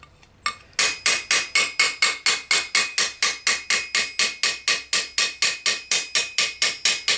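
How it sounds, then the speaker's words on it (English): Steady, evenly spaced hammer blows ring on steel armour, smoothing out dents, about four per second, sharp and close, after a couple of initial taps. "Far easier to smooth them out with a hammer than it is to grind them away."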